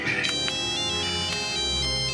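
A mobile phone ringtone plays a bright, repeating melodic pattern of tones, loud and close, with a low hum running underneath.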